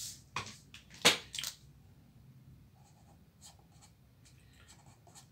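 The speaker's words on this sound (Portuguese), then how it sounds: "Essa caneta está falhando. Deixa eu pegar uma outra aqui." Pen strokes on a board or paper during a Pythagorean theorem math lesson, a few sharp scratchy bursts near the start followed by fainter, sparse scribbling, close and without talk.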